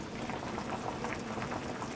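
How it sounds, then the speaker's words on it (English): A pot of potato leek soup at a steady boil gives a soft, continuous bubbling and popping close by, with no voices over it. "And now that the pot is boiling, I'm just turning it right down to a medium heat."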